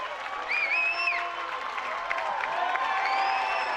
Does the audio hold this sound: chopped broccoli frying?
no